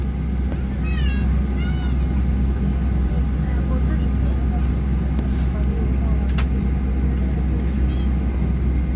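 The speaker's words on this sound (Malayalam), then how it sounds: "അങ്ങനെ നമ്മുടെ ഫ്ലൈറ്റ് മൂവ് ചെയ്യാൻ തുടങ്ങി കേട്ടോ." Inside a passenger airliner cabin as the flight starts to move, a steady deep rumble and hum fills the space continuously, with a few brief voices and chirpy sounds rising above it.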